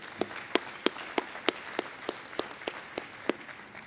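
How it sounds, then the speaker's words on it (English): Sparse, evenly spaced claps at an OSU Alumni Hall of Fame induction ceremony, about a dozen distinct hand claps in a steady rhythm, fairly quiet and somewhat distant. "Join me in a round of applause for that."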